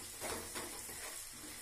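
Spices with coriander powder sauté in a pan for palak paneer, giving a faint, steady sizzle with soft scraping stirs.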